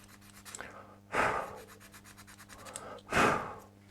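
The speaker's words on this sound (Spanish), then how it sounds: "Para limpiar el poco exceso de cianoquilato que se ha formado aquí encima, con una lima muy finita, lo podemos retirar" A very fine file scrapes away excess cyanoacrylate glue on a Scaleauto Honda NSX GT3 model car, heard as two short, soft rasping strokes close up in a quiet room.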